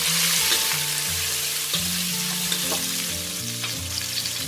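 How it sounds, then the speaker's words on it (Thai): Garlic and chili crackle and sizzle steadily in oil over medium heat, a dense continuous frying hiss with a few soft stirring knocks from the pan, close and even throughout. "ให้ใช้ไฟกลางนะค่อยๆเจียวค่ะให้กระเทียมค่ะเหลืองนะค่ะเมื่อกระเทียมเริ่มเหลืองค่ะก็ให้ใส่พริกลงไปเลย"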